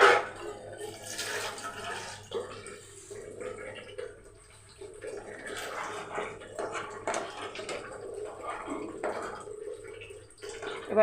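A bowl rinsed with water, with running and swirling water and splashing that rises and falls in waves over about eleven seconds, fairly close.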